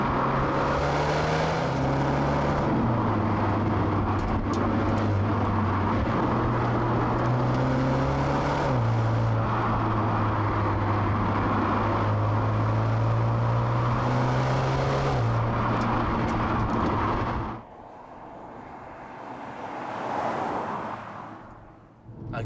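A BMW M135i xDrive hatchback engine revs hard in sport mode with manual shifting, climbing through several gear changes, the pitch rising and dropping with each shift, then cuts off to quiet.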